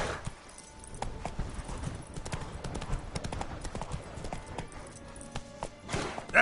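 Horse hooves clip-clopping at a steady trot in The Witcher 3, the rhythmic footfalls continuing throughout at moderate loudness over ambient game sound.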